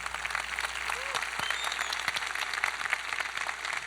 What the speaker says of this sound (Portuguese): Salva de palmas para o Cláudio, por favor.